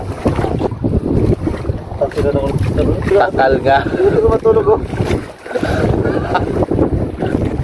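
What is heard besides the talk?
strong wind at sea in early morning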